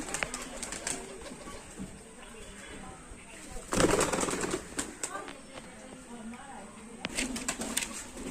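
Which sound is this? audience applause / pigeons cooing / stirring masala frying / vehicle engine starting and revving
pigeons cooing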